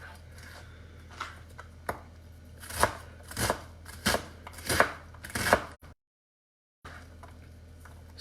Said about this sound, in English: I am just working these onions. We're dicing them pretty fine.